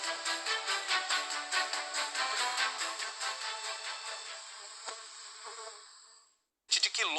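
Native stingless bees swarming in flight in the afternoon on a rural quilombo apiary near Macapá, a dense, steady buzzing hum with pulsing wingbeat texture that fades out, then briefly returns near the end.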